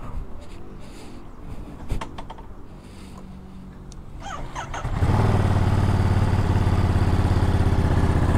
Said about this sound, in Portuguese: Deixa eu ligar ela aqui para vocês ouvirem um ronco.